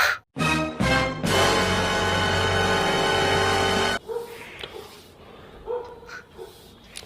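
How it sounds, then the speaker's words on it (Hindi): A few sharp dog barks at the start, then a dense loud blare of sustained sound, followed by quieter scattered noises and faint yelps. "और कुत्ते देखो सच में भौंकने भी लगे"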